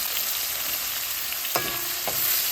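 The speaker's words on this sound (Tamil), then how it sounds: "கருவேப்பிலை எல்லாம் போட்டாச்சு, வதங்கட்டும்." Curry leaves sautéing in oil in a pan, a continuous even sizzle heard up close with a couple of brief utensil clanks near the end and no voices.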